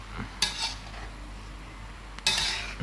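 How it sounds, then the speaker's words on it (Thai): Eel is stir-fried in a pan for a spicy stir-fry, with two sharp metal clanks of the spatula scraping the pan over a quiet steady sizzle, close and otherwise alone. "ลวนให้มันสุก แล้วก็ลวนไปเรื่อยๆ นะครับ"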